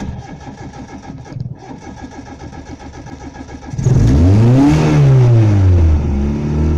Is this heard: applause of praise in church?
no